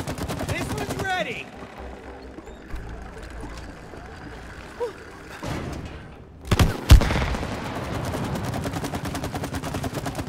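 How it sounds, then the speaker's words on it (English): Shooting at tree branches in the co-op video game It Takes Two: sporadic sharp gunfire-like bursts and cracks, with a dense flurry of loud impacts in the latter half, under occasional player talk. "I think you gotta shoot these branches down."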